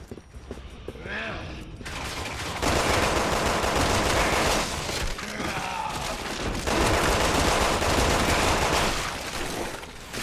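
Gunfire in the video game Resident Evil 6, heavy bursts of shots fired at a mutating creature on a bridge, loud and sustained in long rapid volleys with short pauses and mechanical clatter between them.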